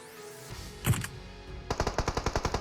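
Gunfire in PUBG Mobile: a single loud shot near the middle, then a rapid, even burst of about a dozen automatic rounds close by, with no talk.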